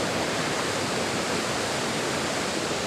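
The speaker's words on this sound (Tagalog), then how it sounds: "Ito guys, ang secret falls." Steady, broadband rush of water pouring down at Secret Falls, a clear-watered waterfall; the roar stays constant and fairly close throughout, with no voices over it.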